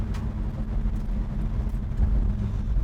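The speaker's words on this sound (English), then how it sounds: "Looks like we finally got the street sweeper out here cleaning up the streets." A street sweeper working along a city street, its steady low engine rumble and brush drone continuous and fairly close, swelling slightly louder toward the end.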